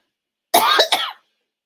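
A single sharp, loud cough bursts out close up in two quick pulses, then stops, with silence before and after.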